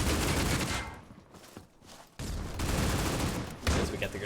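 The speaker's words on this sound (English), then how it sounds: "As we got the grenades being thrown out, Royal does take out Gene for the first kill" Dense bursts of gunfire and grenade blasts from a Critical Ops tournament match fill the mix, loud and continuous with a brief lull before the shooting resumes, and a commentator's voice runs faintly beneath.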